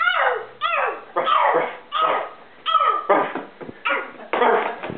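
A dog barks repeatedly in short, sharp bursts, close and fairly loud, with brief pauses between barks.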